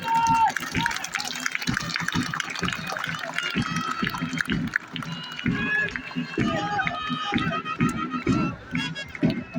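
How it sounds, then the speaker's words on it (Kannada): Police trainees at a passing-out parade at the Dharwad police training school march in step, their rhythmic footfalls continuing steadily under a voice announcing over a loudspeaker. "ಶಿಸ್ತಿನ ಹೆಜ್ಜೆಗಳನ್ನು ಹಾಕುತ್ತಿರುವ ಪ್ರಶಿಕ್ಷಣಾರ್ಥಿಗಳು"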